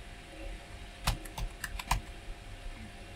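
Computer keyboard keys are pressed on a retro PC during boot to enter BIOS setup, a short cluster of about six close, crisp clicks in an otherwise quiet room.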